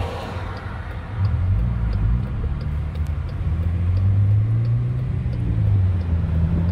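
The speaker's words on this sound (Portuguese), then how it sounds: "Olha essa Dodge Ram toda preta." Black Dodge Ram pickup truck passing on a road in Florida, a deep engine rumble that swells as it nears and holds loud, with low revving under surrounding traffic noise.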